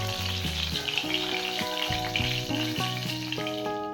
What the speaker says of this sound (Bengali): এইভাবে আমি সবকটা মাছ ভেজে নেব।